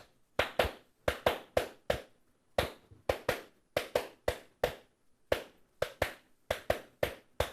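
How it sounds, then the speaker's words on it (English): Sharp hand claps beat out a repeating rumba ostinato, crisp and close, in clustered groups that recur evenly across the measure with short silent gaps between them. "I'll put these down and clap it with you"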